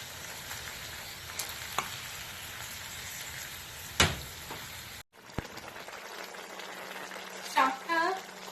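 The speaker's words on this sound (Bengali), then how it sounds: "শাকটা খুব ভালো করে ফুটতে শুরু করেছে" Bottle gourd greens bubble and sizzle in a pan in a continuous close hiss, which cuts off abruptly partway through and is followed by quieter cooking noise and a brief clatter.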